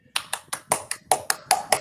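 Hand clapping, a series of about ten sharp, close claps in an uneven rhythm, crisp and fairly loud with no voices over them.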